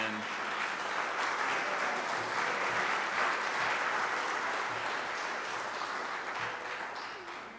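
A church congregation claps in warm, sustained applause for a violinist after a choir piece, a dense steady wash that fades slightly at the end.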